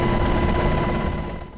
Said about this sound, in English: the 3rd Combat Aviation Brigade choppers flying overhead